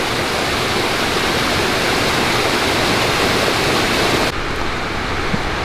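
A waterfall in Shawnee National Forest roars as a steady, loud, dense rush of falling water, unbroken throughout, with the high hiss easing slightly near the end.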